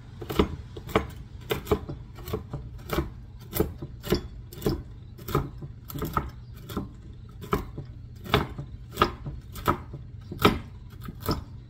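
Walnuts being coarsely chopped with a knife on a board for whole-wheat muffins, a steady series of sharp, close knocks at a regular rhythm, roughly one per second, with no talking.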